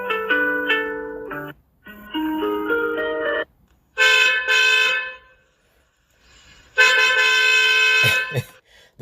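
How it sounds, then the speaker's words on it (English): An electronic car horn ringtone from a cheap tracker device on a 2007 Dodge Charger SRT8 honks in several loud, blaring bursts separated by short pauses, with a brief click near the end. "That's straight up a car horn."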